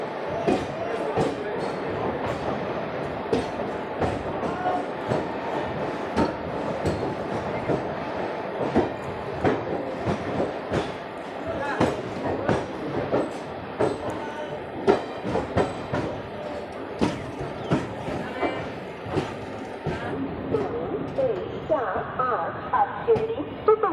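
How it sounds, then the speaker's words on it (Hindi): The Sainagar Shirdi to Dadar superfast express, train 22148, pulls into platform 4 with steady rail clatter and rhythmic wheel clicks, while voices and station noise run under it. "सुपरफास्ट एक्सप्रेस साईनगर शिर्डी पासून निघून दादर ला जाणारी प्लॅटफॉर्म क्रमांक 4 वर आली आहे."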